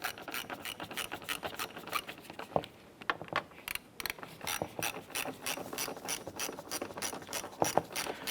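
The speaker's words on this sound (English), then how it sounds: "Using a 7mm deep socket, I want to go ahead and remove these two." A ratchet turning a 7mm deep socket on the side mirror bolts of a 1994-2004 Chevrolet S-10 clicks in rapid repeated bursts, close and crisp, with a short pause partway through.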